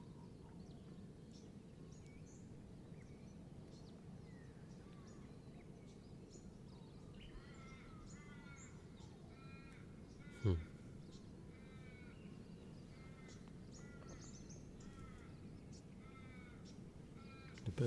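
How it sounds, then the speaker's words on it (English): Birds calling and crows cawing at a calm water's edge by an inlet in the early morning, repeated harsh caws in short bursts over a steady low wash of water and ambient rumble, with one brief sharp knock midway. "The birds are becoming more active."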